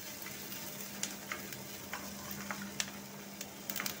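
Mutton masala is sautéed in a pan, giving a faint, steady sizzle with occasional light clicks of stirring throughout. No one talks.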